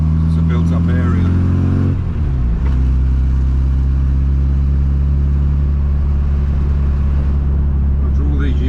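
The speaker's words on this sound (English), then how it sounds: "Seriously quick off the acceleration, this thing." Custom classic Mini Cooper on a road in a built-up area, its engine droning loudly and close with a rising tone as it accelerates, a brief gear change midway, while a person talks over the engine noise.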